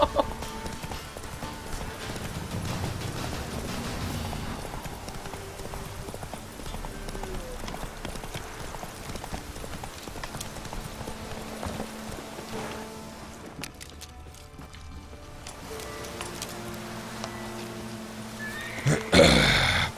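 A horse in The Witcher 3 gallops with steady clip-clop hoofbeats and neighs over a busy game soundscape, ending with a louder burst near the close.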